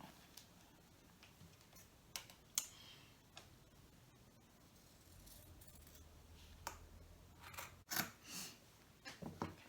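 Scissors snip through fabric for a reversible tote bag, a few quiet, scattered cuts and clicks close by in a hushed room, with no talking.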